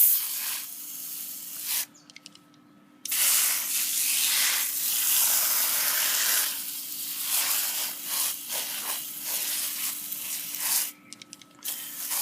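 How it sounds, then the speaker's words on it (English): Foaming coil cleaner hisses from a spray can in long bursts onto window air conditioner coils, close and steady with brief pauses between sprays and no talking. "I'm going to spray the coils down with foaming cleaner on both sides"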